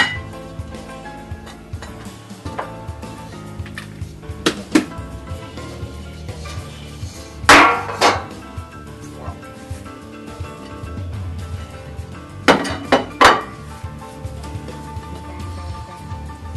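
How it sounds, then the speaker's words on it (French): A cake is unmolded from its pan, with sharp metallic clinks and knocks of the tin against a surface coming in a few separate bursts over a low steady room hum. "Là, on va le démouler."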